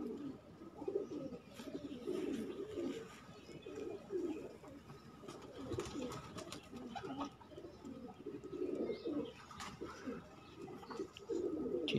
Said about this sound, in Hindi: बहुत ही अच्छा कबूतर है ये भी गोल्डन।